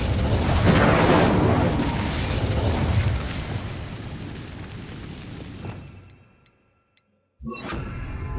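Incendio fire spell in Hogwarts Legacy: a loud, close fiery blast that roars and then decays over several seconds, cuts to near silence, and resumes with a further burst of crackling fire.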